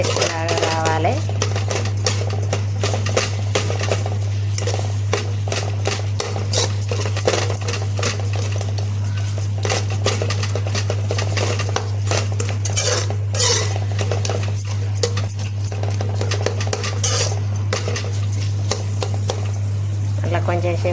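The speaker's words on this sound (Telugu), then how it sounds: "టమాటా అంతా గుజ్జు అయ్యేటట్టు ఉడుకుతా అంటే కలుపుకోవాలి." A metal spoon scrapes and taps against a pan while tomato cooks down into a paste, steady clinking throughout over a constant low hum, with a voice talking alongside.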